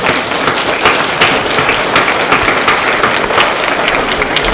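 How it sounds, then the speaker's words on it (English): An audience at a county candidate forum claps together, a loud, close, continuous patter of hands with a few sharper individual claps. "Please give yourselves a round of applause for that."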